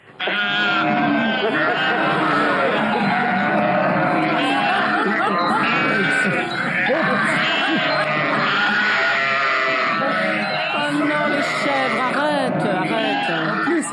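A dense flock of sheep bleats loudly and constantly, with many overlapping calls close by and people talking and shouting among them.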